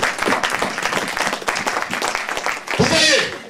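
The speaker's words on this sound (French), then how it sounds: "Applaudissons Jésus-Christ" A church congregation claps and cheers at a French-language worship service, a dense patter of hands that sits under a preacher's voice and swells into a louder burst of applause near the end.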